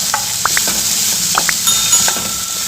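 Cashew nuts stirred into white egg kurma in a pan, with a soft steady sizzle under light scraping and a few small metallic clinks of the spoon against the pan, close and continuous.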